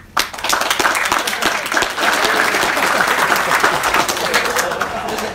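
A crowd at a tandem drift event applauds steadily, many hands clapping at once in a dense, sustained burst lasting several seconds, close and fairly loud.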